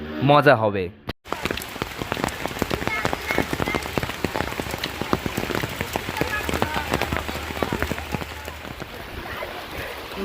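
Steady rain patters and splashes on a pond, dense and continuous, after a brief voice at the start.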